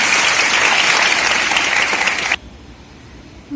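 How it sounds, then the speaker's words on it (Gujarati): A crowd at an AI workshop in Vadodara bursts into loud, dense applause that continues for a couple of seconds and then stops sharply, leaving a quiet room. "આપણે એમને તાળીઓથી ફરી એક વખત ગરગાટથી વધારીએ."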